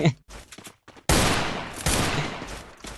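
Gunfire in the Free Fire mobile battle royale game, a sudden loud burst of shots kicking in after a few faint pops and a brief voice, then carrying on as a dense, sustained volley with a second surge partway through.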